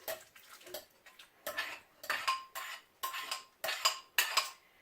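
A utensil stirs sour cream and cream of mushroom soup together in a bowl, making a run of rhythmic scraping and clinking strokes that are close and fairly soft, with no talk.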